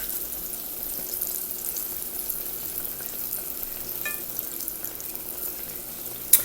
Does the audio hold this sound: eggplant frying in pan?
yes